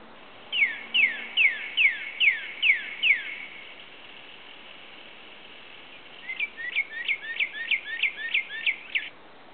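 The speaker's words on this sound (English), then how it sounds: "So we'll get bird sounds, and then we'll have the wing flap from the servo." Electronic chirping bird calls from a small servo-driven gadget, a run of about seven evenly spaced tweets, a pause, then a faster burst of about ten, clear and close.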